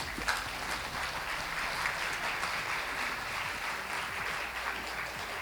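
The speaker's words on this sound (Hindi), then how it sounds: "तो उसके लिए तालियां होनी चाहिए।" Audience applause at a network marketing seminar in India, a steady wash of many hands clapping at moderate, distant level, continuous throughout without talk.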